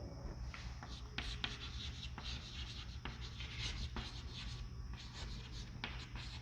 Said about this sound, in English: I am writing